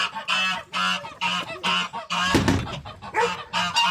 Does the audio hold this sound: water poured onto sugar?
no